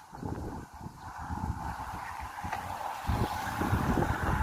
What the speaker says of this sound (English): It's a little windy, huh?